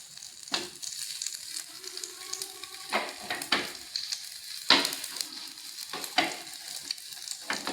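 A folded Mughlai paratha fries on medium heat, giving a soft sizzle broken by repeated spatula scrapes and knocks against the pan, heard close and alone.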